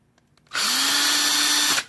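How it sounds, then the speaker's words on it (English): A power drill fitted with a flat blade screwdriver bit spins steadily for about a second, removing spoke nipples from a Yamaha YZ motocross rear wheel; a loud, close, continuous whine that starts and stops abruptly. "I just put a flat blade screwdriver on my drill."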